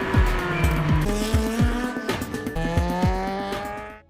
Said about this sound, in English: He got in a car to test out how he would perform.